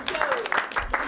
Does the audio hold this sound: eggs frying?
no